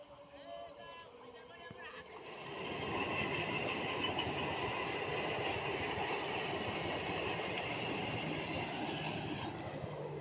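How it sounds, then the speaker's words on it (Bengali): A 12-coach train rolls into a station with a steady, heavy rumble and rattle that swells after a quiet start and holds loud to the end. "ট্রেন আসছে দেখো।"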